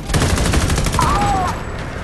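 Gunfire in the console shooter Homefront: The Revolution: a dense burst of rapid shots crackles over the first second and a half, then the shooting thins out under a continuous game backdrop.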